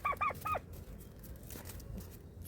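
Three quick nasal duck calls at the start, fairly close, then only quiet background noise.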